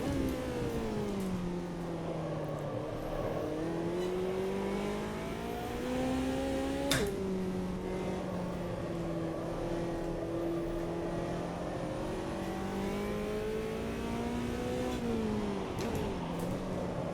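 Racing engine of a McLaren GT4 car in the AMS 2 sim at the Nürburgring GP circuit, droning steadily with rising and falling pitch through gear changes and one sharp shift midway, loud and continuous with no talk.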